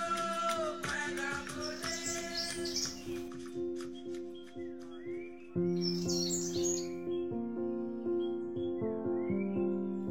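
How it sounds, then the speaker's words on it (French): A bird sings in a forest around Saint-Philippe in southeastern Réunion with bright, repeated chirps and trills. Sustained tonal notes run steadily beneath the birdsong for the whole stretch. "Voilà l'oiseau"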